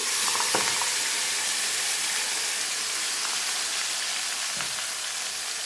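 Marinated potatoes fry in hot oil in a karahi with a loud, continuous sizzle and hiss, broken by a few brief stirring knocks, and no one talking.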